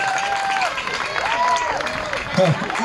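An audience applauds an emerging band at a Musica da Bere 2024 award presentation, a moderate wash of clapping and crowd noise with a voice speaking over it.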